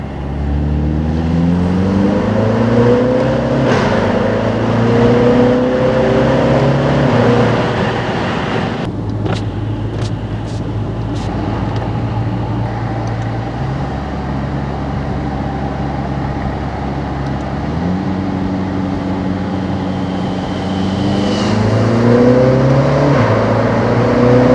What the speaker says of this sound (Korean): JCW라면 이런 배기 소리 안 들을 수가 없죠.